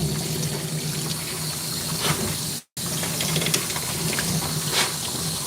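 Water sprays steadily from a hose during dog grooming as a dog is rinsed, a continuous close hiss broken by one brief cutoff partway through.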